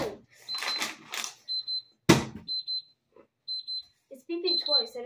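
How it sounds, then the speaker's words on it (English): A kitchen timer beeps in short bursts of three, clear and close, between spells of talking and excited voices. "I just realized that timer 3 beeped 3 times."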